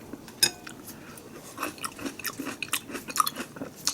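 Someone bites into and chews crunchy Ottogi mixed onion pickle up close, with crisp, irregular crunches and faint utensil clinks.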